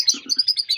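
Pet parrots chirp in a quick burst of short, bright tweets, several in rapid succession, close and alone.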